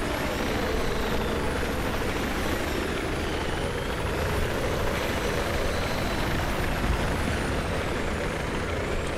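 A steady, loud engine roar and rumble from a vehicle driving in reverse during a Battlefield demolition derby, droning continuously without pause and nothing else standing out.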